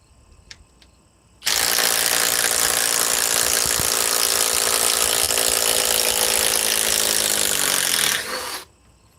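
A Flex power tool strains against a stuck part, a loud steady high whine that starts abruptly, holds for about seven seconds with a slight drop in pitch, then cuts off.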